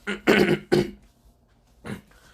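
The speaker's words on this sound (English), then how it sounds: "I'm not really coughing, I'm just mostly cleaning my throat." Someone clears their throat twice in quick succession, close by, followed by a softer third rasp after a pause.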